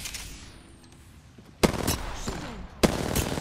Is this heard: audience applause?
no